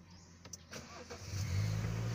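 A Ford Territory engine is started: a brief cranking clatter, then the engine catches and settles into a loud, steady low idle close by, with no talk.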